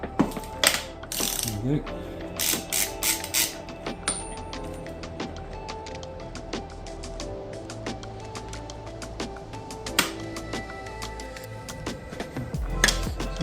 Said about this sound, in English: just loosen off the upper triple clamp pinch bolts